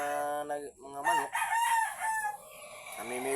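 A rooster crows loudly among chickens, its long drawn-out calls rising and falling, then a second crow starting near the end. Fowl cluck faintly underneath in a rural yard with gamecocks.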